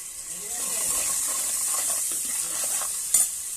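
Ginger garlic paste fries in a pan with a steady soft hiss, broken by faint scraping stir strokes and one brief sharp clink near the end.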